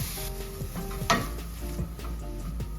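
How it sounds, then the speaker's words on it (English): Onions sauteing in a preheating pan give a steady close sizzle with scattered stirring scrapes and one brief louder clatter, no voices. "I'm about to saute these onions"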